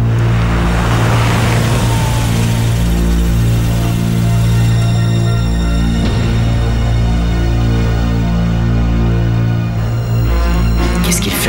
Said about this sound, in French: on a une voiture